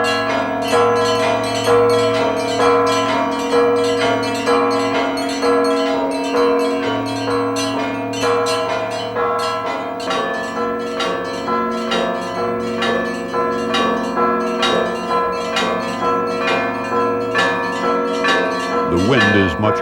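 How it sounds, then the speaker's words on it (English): Church bells rung by hand in a tower in Ukraine, a loud, ringing melody of overlapping struck tones repeating in a steady pattern, close by, for about twenty seconds with no speech. "Vasily and his helper play a melody that has been the same since the bells were first hung in this"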